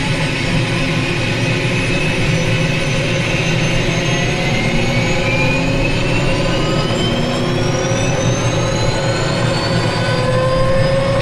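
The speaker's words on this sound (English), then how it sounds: "the engine will continue to make a starting up noise" A Shrike 530F helicopter's turbine engine starting up in Microsoft Flight Simulator: a loud, steady whine rises gradually in pitch over a heavy low rumble, continuous throughout without any talking.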